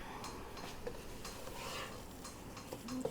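A spoon stirs a pot of vegan African peas stew, giving faint, scattered clinks and scrapes against the pot under a quiet kitchen background.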